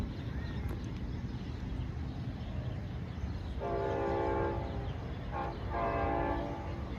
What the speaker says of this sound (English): Here he comes, train 24.